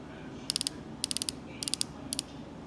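Adjustment knobs on a Sure Loc Carbonic bow sight give four quick bursts of crisp, evenly spaced mechanical clicks, each run three to five clicks long, close and clear against a quiet background.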